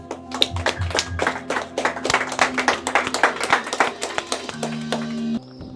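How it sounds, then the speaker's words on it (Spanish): Rhythmic congregational clapping in a church service offered to the Lord Jesus, crisp near hand claps in a steady beat over a sustained organ-like musical tone, ending abruptly as the music shifts. "Un aplauso al Señor Jesús"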